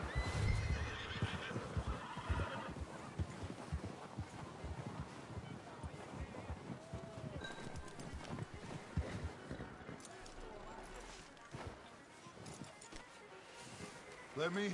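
In Red Dead Redemption 2, a horse whinnies loudly up close while hooves clip-clop and wind blows through the outdoor game scene.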